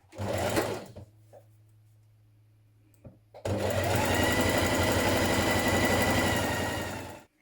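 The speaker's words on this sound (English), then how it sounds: "Now stitch your seam in position." A sewing machine stitches a coat seam with a brief whir, then a pause with faint clicks, then a long steady run of fast, loud motor hum that stops at the end.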